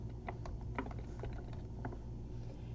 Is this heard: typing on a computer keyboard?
yes